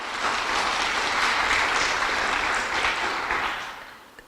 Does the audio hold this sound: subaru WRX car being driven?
no